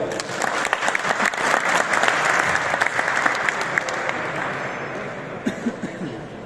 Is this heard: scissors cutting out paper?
no